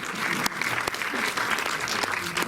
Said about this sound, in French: Ouais, qu'on peut applaudir parce qu'on est super content qu'elle soit là, Noémie.